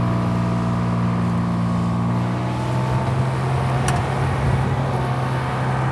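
A Kubota RTV X work utility vehicle drives along with a steady engine drone. The hum is loud and constant and close by, and its pitch shifts slightly with a faint rattle partway through. There is no speech.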